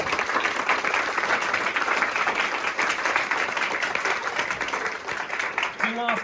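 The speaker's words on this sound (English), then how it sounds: "I think that deserves another round of applause" Audience applause at a book talk in the Bodleian Library, a dense, steady clatter of many hands that fills the room for about six seconds at close range, with no voices over it.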